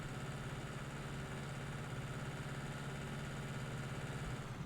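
Tractor engine in Farming Simulator 19 idling and running steadily at a constant low rumble, droning evenly throughout with no talk over it.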